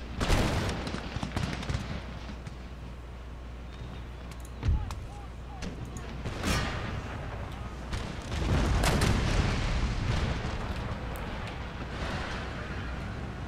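Cannon and artillery fire in the Napoleonic-era strategy game Empire: Total War, with loud booming shots, including heavy blasts near five and nine seconds, over a constant rumble of battle and gunfire, with a voice talking over it.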